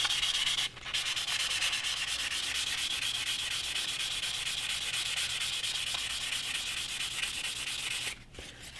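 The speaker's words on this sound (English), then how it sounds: "is making sure that we polish it all up" Steady close rubbing of a Marlin rifle bolt being polished by hand, an even, continuous scratchy hiss running almost the whole time with a brief break near the start and near the end.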